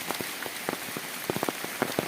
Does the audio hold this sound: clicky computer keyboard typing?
no